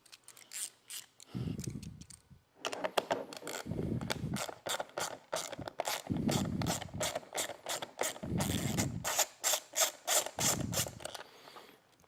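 A ratchet tool loosens an 8mm nut from the back of a reflector on a 2018-or-newer Honda Gold Wing, giving close, rapid clicking bursts in several repeated runs separated by short pauses.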